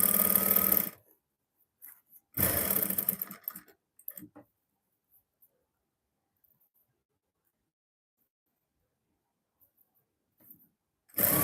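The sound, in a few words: sewing machine stitching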